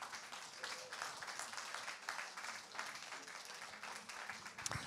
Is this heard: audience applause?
yes